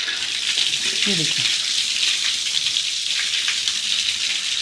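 Water sprays out under pressure from an opened plumbing fitting in a bathroom, a steady broadband hiss that runs loud and unbroken throughout, with someone speaking briefly near the start.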